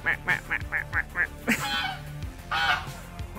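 A run of quick, nasal duck quacks sounds close by, then louder squawky honks break in, with a voice murmuring in the background.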